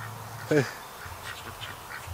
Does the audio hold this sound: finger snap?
no